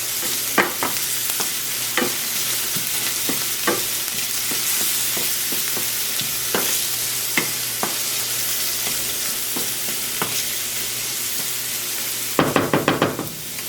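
Onion with garlic cooks gently in a pan on low heat with a soft, even sizzle, punctuated by sharp clicks and taps of a utensil and a quick cluster of knocks near the end.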